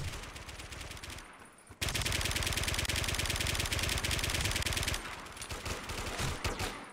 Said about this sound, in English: Don't know why I keep reloading every time I start shooting things.